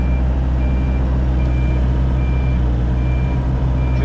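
A JCB 3CX backhoe loader's reversing beeper sounds at a building-site excavation for a house, a steady repeating series of loud, evenly spaced tonal beeps over a constant heavy diesel engine rumble.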